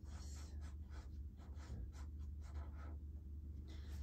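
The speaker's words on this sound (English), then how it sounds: "I think I'm going to write my name" Quiet scratchy strokes of a pen writing a name on a paper plate for a craft firefighter hat, short rhythmic scribbles close by over a low steady hum.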